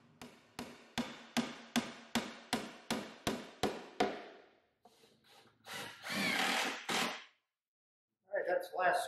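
A heavy hammer drives pins into a wooden steam box with about a dozen sharp, evenly spaced blows, followed by rougher rubbing and scraping noises with short pauses.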